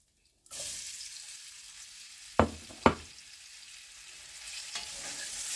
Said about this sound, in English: And what I'll do next is I'll put my onions in.